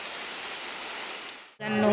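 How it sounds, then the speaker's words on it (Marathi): Rain falls steadily outside, a continuous even patter for about a second and a half, before it drops away and a person starts talking. "बाहेर पाऊस पडतोय"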